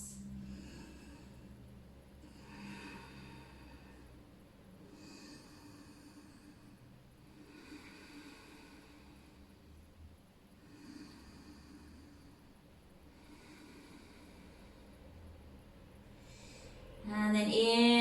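Slow, steady breathing during a wide parallel forward fold in a yoga flow, soft repeated inhales and exhales spread evenly over time, fairly faint and close, with a louder burst of sound at the very end.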